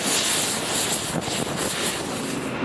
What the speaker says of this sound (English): Windy, it's cold.